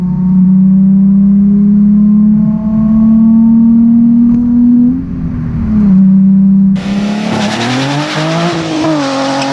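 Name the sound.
Nissan 350Z engine accelerating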